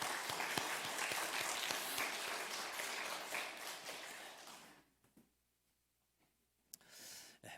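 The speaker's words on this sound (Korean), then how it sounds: "우리 할렐루야 찬양대와 주일 경배 찬양팀 축복하고 격려하는 박수합니다" A church congregation at a Korean Sunday worship service applauds the choir and praise team with dense, steady clapping that lasts several seconds, then cuts off into near silence before a faint stray sound.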